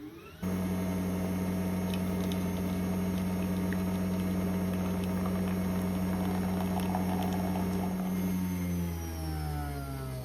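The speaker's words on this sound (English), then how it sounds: "you just press this button here once and it will read the barcode and pour the right size coffee" A Nespresso Vertuo Up capsule coffee machine brews and pours a cup, giving a steady, loud mechanical hum and whir with bubbling that runs unbroken for about eight seconds before winding down.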